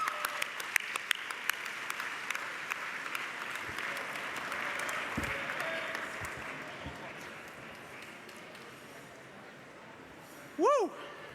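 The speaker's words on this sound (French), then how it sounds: "give him a round of applause." An audience at a parliamentary press gallery dinner applauding as a speaker is welcomed to the stage: sustained, fairly distant clapping that fades gradually, followed by a brief loud whoop near the end.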